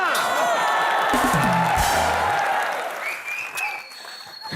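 A studio audience at a comedy show claps loudly and steadily, a dense crowd applause with some cheering mixed in. It peaks early and then tapers toward the end.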